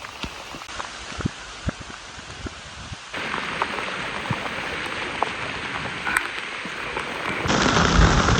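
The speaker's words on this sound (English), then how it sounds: "now the rain is pouring down" Heavy rain pours down on a camp outdoors, a dense steady hiss with scattered close drips and taps that grows louder and fuller partway through.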